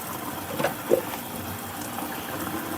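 Tap water runs steadily into a sink while something is rinsed out, a soft continuous stream with a couple of small splashes near the start.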